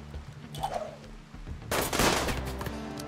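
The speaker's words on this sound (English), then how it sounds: "And the grenades are coming in." Incoming grenades and gunfire in the video game RimWorld: a few faint pops and a short whistling tone, then a sudden loud burst of crackling fire and explosions that keeps rattling at a lower level.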